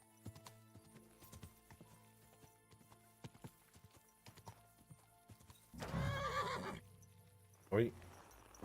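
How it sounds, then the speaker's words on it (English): In a video game, a horse's hooves clip-clop in a steady, fairly faint walking rhythm, then the horse gives a loud whinny, followed by a short second neigh. "The horse. It really is here."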